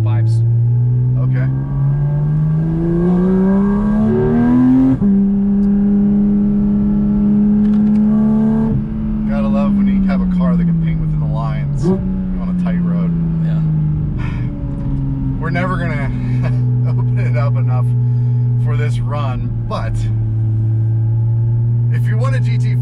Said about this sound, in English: So this has the JCR titanium exhaust rear section.